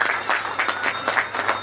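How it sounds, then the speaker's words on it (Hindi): Rhythmic, evenly spaced clapping from a gathered crowd at a community Saifi Day book launch, a steady beat of claps repeating several times a second at full strength. "एक बार बहुत जोरदार तालियां सब लोग बजा दें।"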